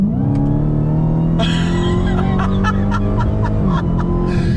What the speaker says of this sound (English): You hear that awesome whine of the supercharger.